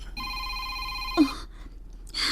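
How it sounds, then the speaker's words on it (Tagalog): A phone rings with a steady electronic tone for about a second, then stops. A brief gasp-like sound follows, then a quieter gap before a louder noisy burst at the end. "May nanawag."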